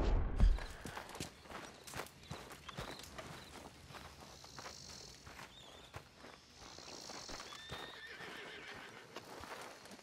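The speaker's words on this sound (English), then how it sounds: "Get that horse out of here." In the Red Dead Redemption 2 video game, a horse lets out a loud whinny near the start, followed by a steady clip-clop of hooves walking, close and continuous, with no talk over it.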